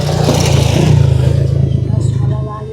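Steady motorcycle engine drone on a long ride, a continuous low hum with rough road clatter, close and loud throughout.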